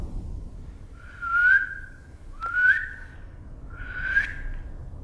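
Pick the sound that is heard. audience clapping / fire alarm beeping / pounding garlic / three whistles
three whistles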